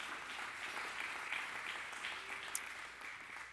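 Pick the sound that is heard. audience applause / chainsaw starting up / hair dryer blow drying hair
audience applause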